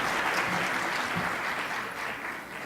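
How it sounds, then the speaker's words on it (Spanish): A conference audience in Mexico, at a session on religion in Latin America, gives steady, full applause that continues throughout at an even level. "Un fuerte aplauso, por favor."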